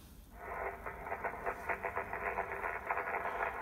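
HF radio receiver on the 20 m band during a busy contest, fed from a doublet antenna in a small garden, giving a steady rush of static with overlapping tones and choppy, pulsing signals throughout.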